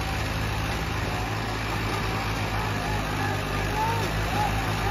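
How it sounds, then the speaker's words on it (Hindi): Swaraj 855 and Farmtrac 60 tractors strain against each other in a tug of war, their heavy engines producing a loud, unbroken low roar from start to finish. "जबरदस्त ताकत लग रही भाई ट्रैक्टरों की रे।"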